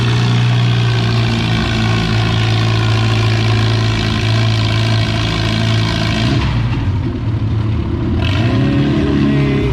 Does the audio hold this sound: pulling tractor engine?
yes